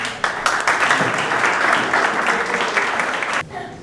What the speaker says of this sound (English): Let's give a big round of applause for Karthik